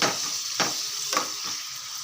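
Chicken liver stirred and frying in a pan, a steady sizzle with a few distinct spatula scrapes at regular intervals, close and moderately loud with no voices.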